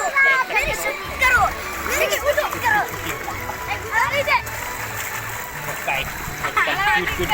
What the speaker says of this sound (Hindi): ये देख सकते हो पानी किस तरह से जा रहा है